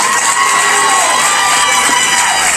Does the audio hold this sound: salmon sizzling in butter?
no